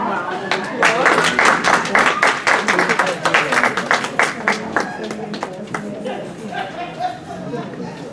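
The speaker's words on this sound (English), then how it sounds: "So let's welcome them with a warm round of applause." A seminar audience of teachers claps to welcome presenters, sharp individual claps that are loud at first and then thin out, with voices talking through it.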